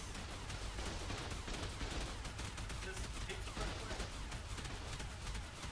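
Tech turrets firing in ARK during a Genesis 2 PvP war, a constant, dense stream of rapid shots at low level, sounding distant, with no pause across the whole stretch.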